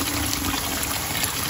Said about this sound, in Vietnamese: chúng mình sẽ mở vòi nước lạnh ra,